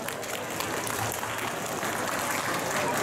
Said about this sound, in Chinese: 请给他们一个热烈的掌声